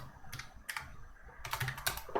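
Typing on a computer keyboard while writing code: quick clustered bursts of clicky keystrokes separated by short pauses, close and fairly quiet, with no voices.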